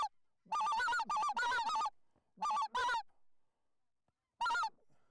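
Canada geese honking: loud, close calls in quick bursts of several honks, with pauses in between and one final burst.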